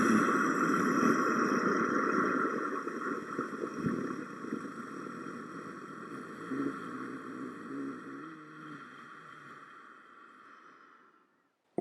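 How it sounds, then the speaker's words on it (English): A single long Ujjayi yoga breath with the throat slightly constricted, a steady, close, ocean-like rushing hiss lasting about eleven seconds that gradually softens before stopping. "It is called the breath of the ocean because it makes a sound similar to the sound of the ocean."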